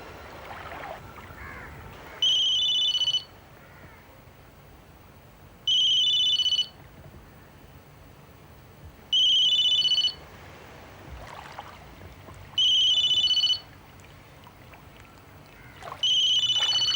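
Ringback tone of an outgoing telephone call to Goa, five evenly spaced double-pulse rings about three seconds apart, clear and close over a quiet room hiss.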